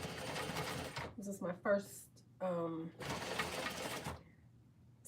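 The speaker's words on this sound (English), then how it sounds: "I am sewing" A sewing machine stitches a backless t-shirt in short, fairly close mechanical bursts at the start and middle, with someone talking between and over them.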